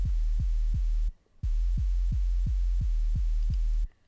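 Deep synth sub-bass notes in a drum and bass track pulse in a steady rhythm, each starting with a quick downward pitch drop from a pitch envelope, with two short gaps of silence.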